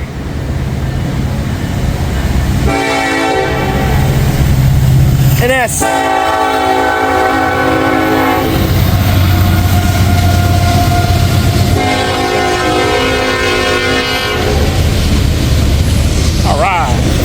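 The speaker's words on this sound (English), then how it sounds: "I want to film this train going by" A freight train hauling heritage locomotives rumbles past close by, its horn blaring in several long blasts over the steady roar and clatter of wheels on track, with a person speaking briefly nearby.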